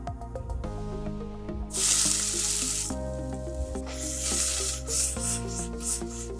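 Onion and garlic sizzle in olive oil in a pan for a pea and shrimp risotto, a steady close frying hiss that swells in bursts over background music.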